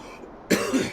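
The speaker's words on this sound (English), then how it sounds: "Sorry about the coughing." A single short, harsh cough bursts out after a moment of quiet room tone, close to the microphone.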